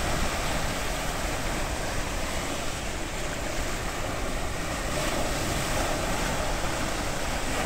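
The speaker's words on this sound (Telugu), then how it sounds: "ఆ గోడ మీదికి కూడా వెళ్ళిపోయేసి పైన వెళ్తున్నాయి చూడండి ఎంత హైట్ వెళ్తున్నాయో వాటర్" Floodwater surges over the wall of the Somasila dam, a dense, continuous roar of rushing water that stays loud and even throughout with no voices.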